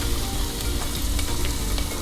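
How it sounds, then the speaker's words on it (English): Poblano, red bell pepper and garlic sizzle steadily in hot olive oil, a loud, close, continuous frying crackle with no talking. "Now it's time for the veggies that we're gonna saute. Again, poblano, red bell pepper, and some garlic. Gonna go in and get a nice sizzle."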